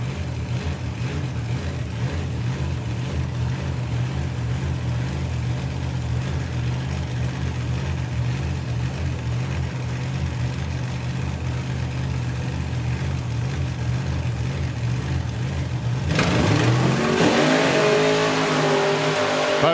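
A Firebird and a Supra in a heads-up 760 drag race final at Bug Jam, engines droning steadily before a sudden loud roaring launch that swells near the end.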